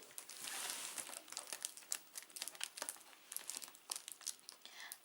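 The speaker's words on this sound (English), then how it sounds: "pack everything with a lot of sellotape, and that takes quite a lot to unwrap" Crinkly sellotape-wrapped packing from an orchid shipment being unwrapped close up, a steady run of sharp crumpling and crackling bursts with occasional tearing, no talk.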